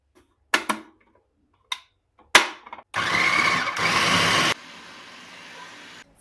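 A chopper or mixer grinder whirs loudly and steadily for about a second and a half, chopping a beef keema mixture with ghee for gola kabab. A few sharp clicks and knocks come before it, and a quieter hiss follows.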